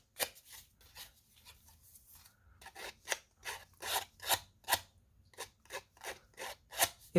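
Scissor blades scrape along paper edges to distress them for a junk journal, giving a dozen or so short rasping strokes in an uneven rhythm, close and fairly quiet, with no talking.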